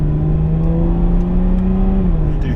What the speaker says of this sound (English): So I changed down a couple of gears like that, and all you hear is the engine note rise.